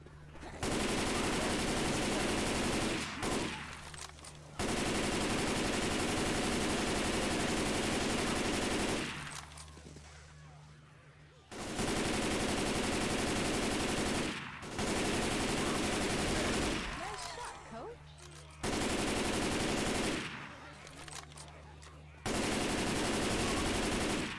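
Assault rifle fire in Left 4 Dead 2, loud sustained bursts of automatic shooting lasting several seconds each, broken by short gaps.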